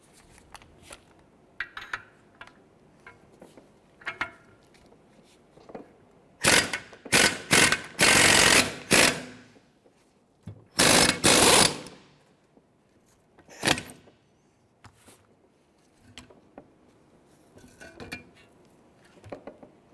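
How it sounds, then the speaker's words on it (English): A press tool forces the wheel hub out of the steering knuckle of a 2007-2013 Mitsubishi Outlander, with scattered metallic clicks and ratcheting, then two loud grinding bursts of straining metal before quieter clicks and taps. "We're going to remove the hub from the knuckle. We set up our tool to press it out"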